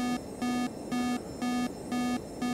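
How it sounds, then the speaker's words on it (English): An engine warning alarm in a home cockpit flight simulator beeps in steady, evenly spaced tones, about twice a second, over a constant background hum of fans and equipment. "That is just an engine warning."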